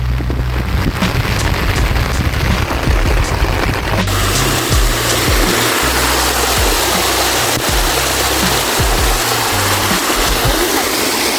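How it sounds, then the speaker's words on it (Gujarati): Heavy rain pours outdoors in a village, making a loud, continuous broadband hiss with low rumbling thumps mixed in, unbroken for the whole stretch. "વરસાદ ચાલુ છે"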